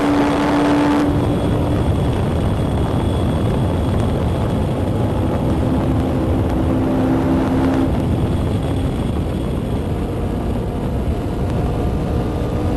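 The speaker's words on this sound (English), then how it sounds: "we have to just bang the throttle a bit going up the hill" A loud sports car engine, an Ariel Atom V8 or Noble M600, roars at wide open throttle up a hill at the Nurburgring close by, holding a strained, steady howl with a slight shift in pitch partway through.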